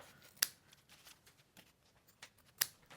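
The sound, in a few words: scissors clipping fabric corners near stitching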